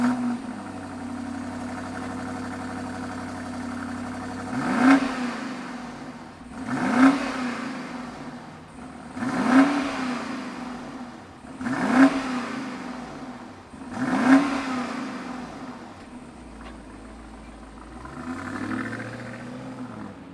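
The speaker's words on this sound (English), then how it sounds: "we got a V8. Let's fire it up and hear what it sounds like." A 2022 BMW X7 M50i's V8 idles steadily, then is blipped in five evenly spaced revs, each rising and falling back to idle, heard close by with no talking.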